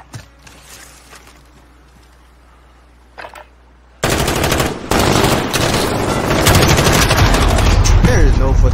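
Gunfire in Call of Duty Modern Warfare starts after a few quiet seconds: loud, sustained automatic bursts and overlapping shots, close and dense, with a voice shouting under them.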